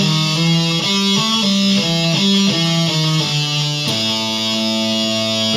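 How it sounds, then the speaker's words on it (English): Distorted electric guitar plays a riff slowly, a steady run of separate picked notes stepping through the phrase before a held final note, loud and close with no voices. "So I'm going to play that riff real slowly for you"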